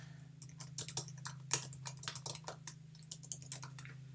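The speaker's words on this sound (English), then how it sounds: "And then you can type over whatever it is" Rapid, uneven keystrokes on a computer keyboard, clattering close and fairly quiet over a steady low hum, with no voices.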